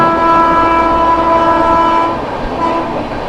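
A passenger train's horn blares loudly and steadily nearby for about two seconds, then fades into rumbling rail noise, set during an overtake of the Sampark Kranti express in West Bengal.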